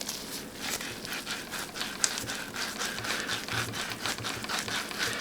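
A greased wheelchair caster grinds and scrapes as it is worked back and forth, making a continuous rough, rhythmic rubbing noise close up.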